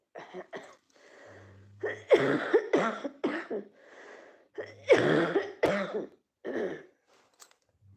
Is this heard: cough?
yes